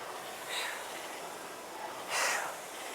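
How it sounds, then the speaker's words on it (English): A person breathes deeply in through the nose and out forcefully through the mouth. Two soft breathy hisses sound close by, the second stronger, over a low background hum. "I'm inhaling through my nose, and I'm exhaling out through my mouth."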